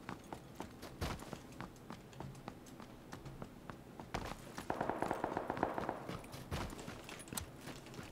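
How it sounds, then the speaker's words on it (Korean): Footsteps in a video game battle, a run of sharp thumping steps close by that keep repeating over a busy, noisy game soundscape, growing denser midway. "계속 발소리가 막 주변에 들려."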